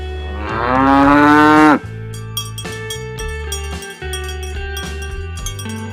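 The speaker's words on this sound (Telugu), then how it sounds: "ఆవు." A cow gives one loud, close, drawn-out moo, followed by a cheerful children's tune with bright plinking notes playing on alone.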